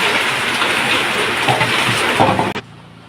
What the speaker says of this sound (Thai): หั่นบวบเสร็จแล้วกับบรรยากาศฝนตกนะคะวันนี้ฝนตกจ้ะ ฝนตก